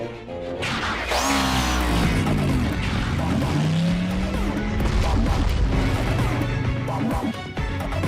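Animated Transformers robots convert and drive off as cars, engines roaring with a long tire squeal and skidding, loud and continuous, mixed with a busy cartoon soundtrack and voices.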